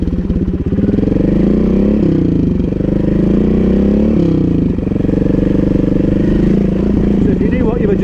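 A motorcycle rides a loop of a motocross track at very low speed, its engine a loud, close, steady drone with slight rises and dips in pitch throughout.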